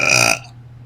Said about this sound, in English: I'm like waiting to burp, and it's going to be loud